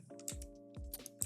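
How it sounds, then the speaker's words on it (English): Clacky keystrokes on a loud computer keyboard come in short bursts, sharp close clicks in quick uneven clusters separated by brief pauses, with a faint steady hum underneath. "Sorry if my keyboard is loud."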